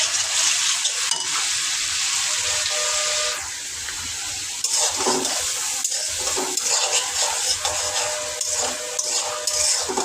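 Food cooking and being stirred in a pan with ginger and garlic paste and bottle gourd, giving a steady loud hiss and sizzle throughout, with a softer stretch partway through and stirring noises on top.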